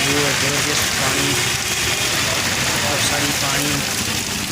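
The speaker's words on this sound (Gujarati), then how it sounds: "અહીંયા પાણી તમે જુઓ, જબરજસ્ત પાણી," Heavy rain pours over a narrow road in Kheda where rainwater has pooled, a loud, steady, close wash of falling water that never lets up, with a voice faintly mixed in.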